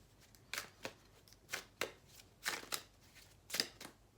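Tarot cards being shuffled by hand in a quiet room, giving a series of crisp riffling bursts at uneven intervals with short pauses between them.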